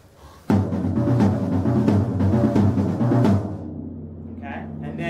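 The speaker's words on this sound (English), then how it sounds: "It's a paradiddle-diddle fill, and it's a 32nd note fill." A slow paradiddle-diddle fill in 32nd notes in 4/4, played on a drum kit at a drum clinic in a cymbal shop, sounds as a dense, loud run of close strokes ringing with cymbal wash, then fading into sustained ringing.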